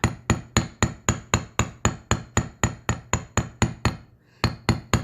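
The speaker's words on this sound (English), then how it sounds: "we're going to hammer a hammered effect on the teardrop" Rapid, evenly spaced metallic hammer taps flattening a teardrop of jewelry earwire, about four per second, with a brief pause before the tapping resumes.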